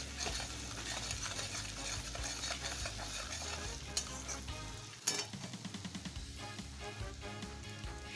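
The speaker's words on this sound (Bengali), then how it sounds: "এবার মশলাটা কষিয়ে নিই।" Spice paste with turmeric powder and a splash of water is stir-fried in a pan for a papad curry, giving a loud, steady sizzle with continual scraping strokes and a couple of sharp metallic clinks.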